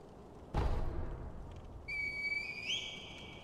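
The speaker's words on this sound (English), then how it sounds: "call Kuro to you with the raid whistle" In the Sekiro: Shadows Die Twice video game, a raid whistle calls Kuro, a sharp, steady whistle that rises in pitch and holds clearly after a brief dull thump.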